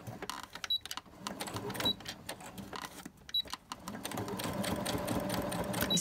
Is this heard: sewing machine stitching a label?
yes